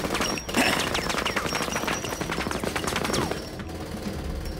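A Vector submachine gun fires in a TV show action scene, with rapid dense bursts of gunshots rattling continuously, then easing off into quieter scattered shots near the end.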